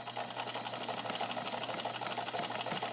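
A vintage Italian-made all-metal Necchi BU Nova zigzag sewing machine stitching, producing a steady rapid mechanical whirr and chatter close up, with no talking.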